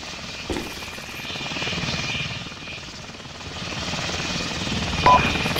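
A helicopter's rotor thumps and engine drone steadily nearby in the video game Arma 2, rising and falling slightly, with a couple of brief clicks over it.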